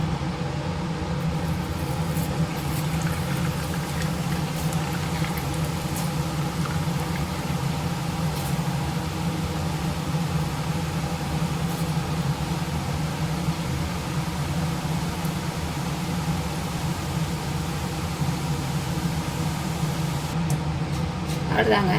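Butter murukku dough pressed into hot oil over a low flame for Krishna Jayanthi sizzles and fries in a steady, dense hiss that holds evenly for the whole stretch.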